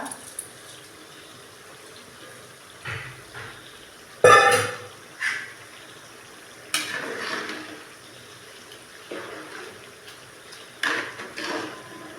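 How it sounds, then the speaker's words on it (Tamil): A ladle stirs coconut milk rice in a pot, making a few scattered, brief scrapes and clunks against the metal with quiet pauses between them. "இப்போ லைட்டாக கொஞ்சம் கரண்டியால் கிண்டி விட்டுட்டாக்கா"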